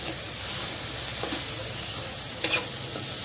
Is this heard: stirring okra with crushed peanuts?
yes